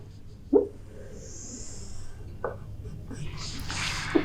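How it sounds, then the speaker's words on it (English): Hand drawing of a diagram, a few scattered pen strokes and taps at close range over a quiet room, with soft breaths between them. "So let me draw this diagram for you all."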